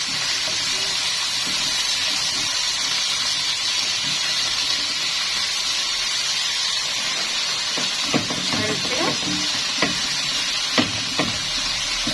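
Ground spices including fine cinnamon being stirred in a frying pan, a steady sizzling hiss throughout with a few brief scraping stirs near the end, fairly close.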